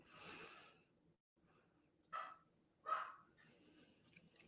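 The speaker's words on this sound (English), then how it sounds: "Now the dogs start barking." Dogs barking in the distance, two faint separate barks roughly a second apart after some quiet background noise, with a brief murmur of talk at the start.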